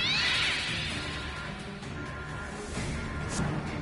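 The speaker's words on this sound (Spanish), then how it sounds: "solo dejé salir más gatos" Several cats in a South Park video game meow and yowl in a close, loud, steady stream, with clawing and scuffling mixed in and no talk.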